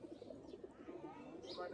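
Pigeons of an old-line breed coo softly at a keeper's home, low repeated coos faint in the background with a voice nearby.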